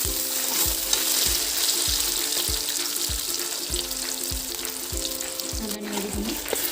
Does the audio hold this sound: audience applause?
no